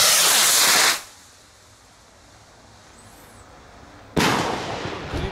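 Fireworks erupt in a loud, hissing, crackling burst, then a quiet gap, then another rushing, crackling blast outdoors.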